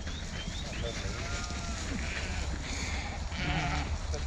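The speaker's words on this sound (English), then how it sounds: "Wow, look at all these sheep on the path." Sheep crowd a rural footpath along the Cotswold Round trail near Bath, bleating intermittently over a steady outdoor background, with brief calls at moderate distance.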